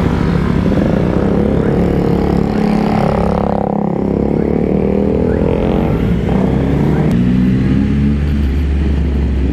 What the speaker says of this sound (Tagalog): So grabe, sobrang ingay. Yan yung CF Moto na bagong bili.